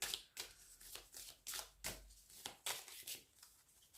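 Oracle cards being shuffled before a draw, a run of crisp riffling and slapping bursts in an uneven rhythm, close and fairly quiet, with no voices.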